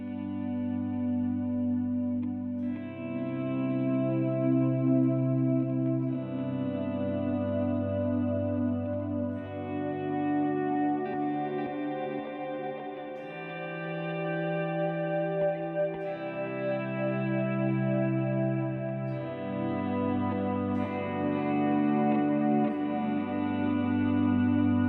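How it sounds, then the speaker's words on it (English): Electric guitar through a Fender Tone Master Pro with swell, delay and cloud effects, playing sustained chords that bloom in and blend into a continuous ambient wash with long echoes and reverb, steady and prominent throughout with no talking. "So I got my swell and the delay and the cloud,"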